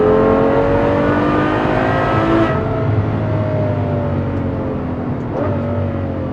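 A Ferrari GTC4Lusso's V12 sings in a loud, sustained rising rev, with a brief dip in pitch partway through before climbing again, heard close and alone.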